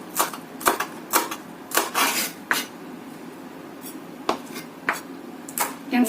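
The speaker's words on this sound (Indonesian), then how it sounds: "Yang ini kita rajang halus untuk taburan." A knife chops spring onion finely on a cutting board, producing crisp, sharp taps in an irregular rhythm, close and clear, with quiet pauses between bursts.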